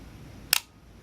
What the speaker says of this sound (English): we're going to listen to the shutter